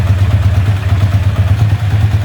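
A motorcycle engine with a carburetor idles, the air screw having just been opened half a turn, giving a loud, close, steady low chugging pulse with no talking.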